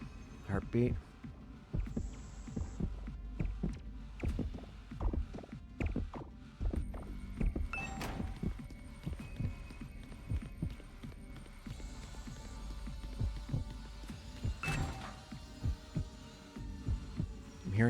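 Steady thumping heartbeat pulses from the video game The Hundred Line repeat throughout in a regular rhythm, low and close over a quiet hum, with faint game tones layered above.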